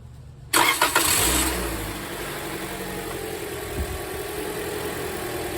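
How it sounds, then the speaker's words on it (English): Engine of a 2017 Toyota Corolla starting: a brief crank catches into a loud rev that settles quickly into a steady, close idle hum. "Going to turn the car on real quick"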